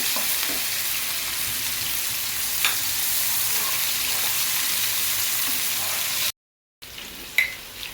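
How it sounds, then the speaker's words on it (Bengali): Onions fry in oil with bay leaf and garam masala, a loud continuous sizzle with occasional stirring scrapes, briefly cut to silence before resuming. "পেঁয়াজ দিয়ে দিলাম এটা একটু ব্রাউন করে দিব"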